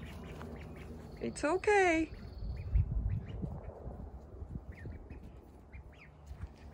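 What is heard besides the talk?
one-month-old ducklings quacking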